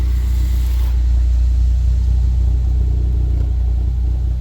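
Ford Focus ST engine idling after spark plug maintenance, a steady, close, low rumbling hum that holds even throughout with no revving.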